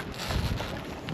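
Gusty outdoor wind buffets the microphone beside a parked camper van. The rough, continuous rushing pulses in uneven surges and fills the whole moment, with no voices.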